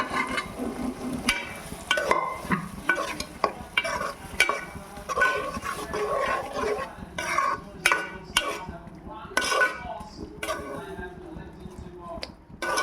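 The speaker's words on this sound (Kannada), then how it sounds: "ಇವಾಗ ನಾನು ಬೇಯಿಸ್ಕೊಂಡಿದ್ದಂತಹ ತೊಗರಿಬೇಳೆ ಹೆಸರು ಬೇಳೆನ ಹಾಕ್ತಾಯಿದ್ದೀನಿ. ನೀಟಾಗಿ ಸ್ಮ್ಯಾಶ್ ಮಾಡ್ಕೋಬೇಕು." Cooked toor and moong dal being mashed in a pot, a series of wet clacking and scraping strokes of a utensil against the metal, close and uneven in rhythm, with no talk.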